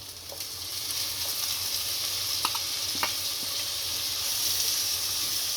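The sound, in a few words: tomatoes added to frying onions for kaju masala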